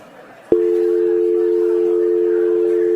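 A voice hums a single steady, loud tone that starts abruptly and holds unbroken, imitating a telephone dial tone.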